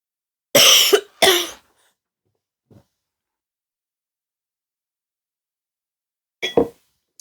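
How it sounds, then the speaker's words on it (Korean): Two sharp coughs close together, followed by silence, a faint brief sound, and another short pair of coughs near the end. "제가 기침을 한번 하면 끝이 없이 막 나와요."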